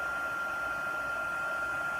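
An embossing heat tool blows hot air over embossing powder on stamped paper, giving a steady, close whooshing hiss with a constant high whine from the motor and no breaks.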